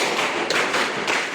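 A class of children clap in unison during a classroom clapping game, two distinct sharp bursts standing out over a steady wash of room noise.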